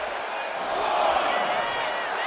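A steady arena crowd roars and cheers during a WWE 2K25 wrestling match, a broad continuous wash of noise that swells slightly midway and holds without any voices over it.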